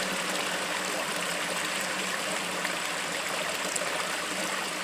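Water from a diverted supply seeps up through the ground into St Dyfnog's holy well in the woods, making a steady, unbroken trickling wash with no voices.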